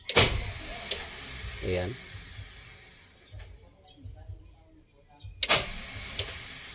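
A car's starter motor cranks without the engine catching, in short bursts at the start and end with quieter mechanical clicks between, close by and under a man's speech.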